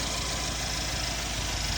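A 2013-2020 Mercedes S550 W222 engine idles with a steady, low, even rumble, close and unbroken, with no voices.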